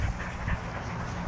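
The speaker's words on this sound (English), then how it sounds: "Here's the puppies, 5 weeks old." Five-week-old puppies give a brief, soft whimper amid faint low rumbling, close by and quiet, lasting only a moment with no talking.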